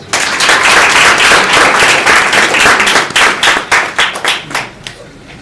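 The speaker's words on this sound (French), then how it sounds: "ça mérite des acclamations" An audience at a club speaking session in Bamako bursts into loud, dense clapping that holds steady, then breaks into scattered individual claps as it fades out.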